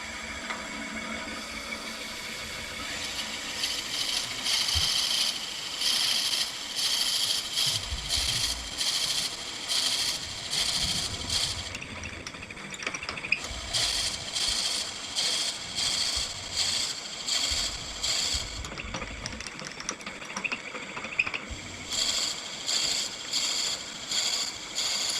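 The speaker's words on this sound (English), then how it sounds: "Turn that on, 400 RPMs still, and we're just gonna" A wood lathe spins at about 400 RPM in a wood shop while a parting tool handle is turned, giving a steady low hum overlaid by pulsing, rhythmic scraping from the cutting tool, with no talking.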